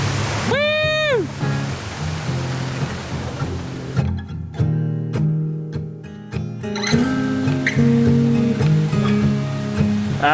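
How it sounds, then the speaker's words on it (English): The roaring rush of a massive waterfall in Sri Lanka fills the clip with constant broadband noise, interrupted by brief whistling tones and a voice. "Punta Ela Falls, which is a beautiful, massive waterfall."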